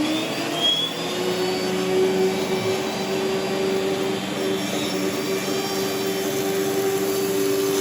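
A Miele upright vacuum cleaner with a swivel head runs steadily at close range, giving a continuous droning whine with a strong steady tone that holds at the same loudness throughout.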